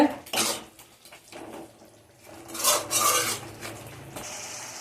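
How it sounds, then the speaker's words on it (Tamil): Potato gravy being stirred in a cooking pan, with intermittent close scraping and rasping strokes of a spoon against the pan's bottom, separated by brief quieter pauses. "அது கொஞ்சம் கிண்டி விட்டுக்கிடுவோம், அடி பிடிக்காமல் பார்த்துக்கோங்க."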